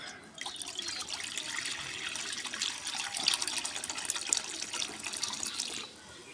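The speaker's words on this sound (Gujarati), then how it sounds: "આ તપેલામાં આપણે પાણી પાડી દઈએ" Water pours into a cooking pot set on a lit stove for boiling dal bati, a steady splashing trickle that starts abruptly, runs continuously up close and then cuts off near the end.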